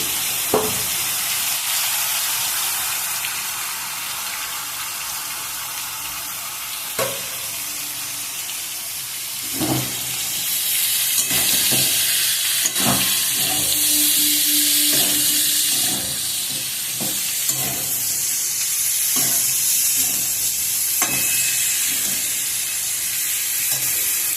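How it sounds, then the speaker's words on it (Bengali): Potatoes and boiled jackfruit fry in a pan with a steady, loud broadband sizzle. A spatula stirs and scrapes against the pan in repeated sharp strokes throughout, and no one speaks. "এবার আলুটা ভাজা ভাজা হয়ে এসছে ভালো মতন"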